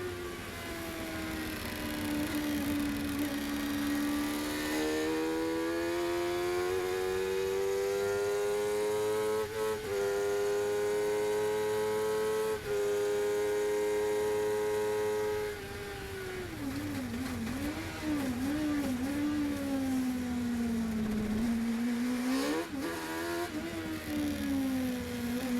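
A 750MC Sports 1000 race car laps Anglesey circuit, its engine heard from on board and droning loudly through rising revs and gear changes, then dropping and wavering through corners before climbing again.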